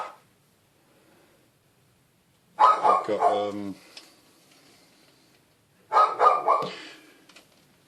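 Barking from a pet dog in a home, two loud bursts at about 2.6 and 6 seconds, each a cluster of sharp barks, with a brief spoken phrase at the very start and quiet between the bursts.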